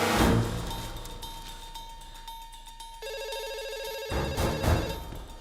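A telephone in an office scene rings with repeated electronic trills, loud and close, over a busy background with no talk during the ringing.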